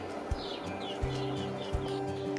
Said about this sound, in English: I can hear chicks calling deep in the hedges